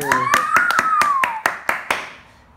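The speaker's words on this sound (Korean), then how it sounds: "박수!" Sharp, separate hand claps ring out at a children's plum-seed growing activity, about nine claps spaced roughly evenly, while a voice sings a rising and falling tone over the first half.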